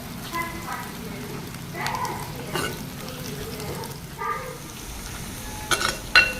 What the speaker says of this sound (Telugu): చూసారా తిరగమాత ఎలా మూత మోగుతుందో చూడండి